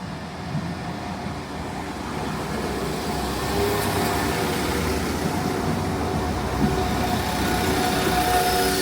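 A West Midlands Railway train pulls out of Jewellery Quarter station. A continuous onboard rumble of wheels and motors builds slightly as it gathers speed, heard from inside the carriage with no talking.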